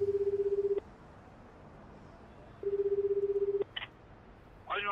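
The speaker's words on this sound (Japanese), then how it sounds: "香港に電話かけちゃうんすか。" A telephone call to Hong Kong is placed, with two long steady tones broken by a pause, then brief chirping beeps, over a faint background hiss.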